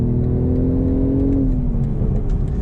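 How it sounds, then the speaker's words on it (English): Engine of a 2025 BMW Z4 M40 with a manual gearbox pulling under acceleration, a loud, steady interior drone with the pitch climbing, then easing and settling as it shifts, with no talking. "All right, so we can do a little acceleration here"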